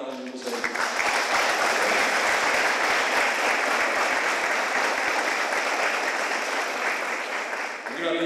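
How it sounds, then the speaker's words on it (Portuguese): Sustained applause from a church congregation at a solemn gathering, honouring pastors and ministry leaders, a steady wash of many hands that swells in and tapers off at the end. "E também quero uma salva de palmas para cada um de vocês"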